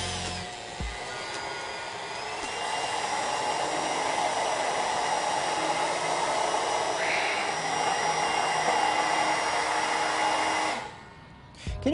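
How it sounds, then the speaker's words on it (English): An electric hand mixer whirs continuously as it blends fat-soluble colour into a cocoa butter mixture, a steady loud motor drone that cuts off near the end. "And then use a mixer, okay, just to have a perfect homogeneous mixture."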